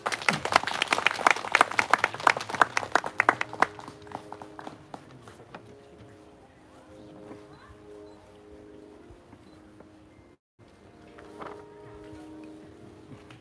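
Audience applause at a memorial ceremony, loud dense clapping for about four seconds that quickly fades into quiet room tone and a few scattered claps.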